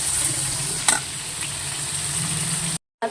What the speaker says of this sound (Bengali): বেশি ভাজবো না, একটুখানি হালকা করে ভেজে নেবো